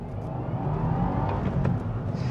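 A 2023 Subaru WRX with a 6-speed manual launches hard off the line, its engine revving up in a rising, close roar over about two seconds.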